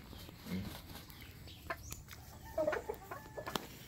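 Roosters and broodcocks of several fighting-cock lines on a farm give a few scattered clucks and short calls at moderate distance, separated by quiet stretches with faint background noise.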